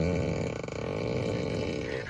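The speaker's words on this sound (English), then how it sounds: "Fart on demand." A Tesla Model 3 plays its fart sound effect through the car's speakers, a short buzzy, sputtering blast lasting about two seconds at moderate volume, heard alone.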